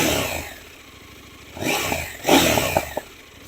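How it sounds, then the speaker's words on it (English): A 2024 KTM Duke 990 motorcycle engine idles close by, then gives two short throttle blips that rise and fall quickly, the second louder, with no talking. "I'm going to rev it slightly so you can get a sound for it."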